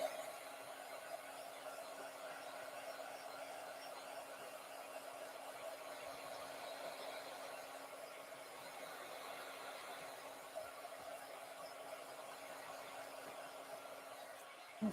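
A hair dryer runs steadily at close range, drying wet paint on a stencil art piece with a constant whirring blow and a faint tonal hum, without pause or talk.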